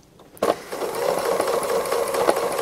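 A sewing machine doing free motion embroidery, filling in an embroidered eye with darker brown thread, starts abruptly after a quiet moment. It then runs at a steady, fast, close mechanical whir with small rhythmic fluctuations.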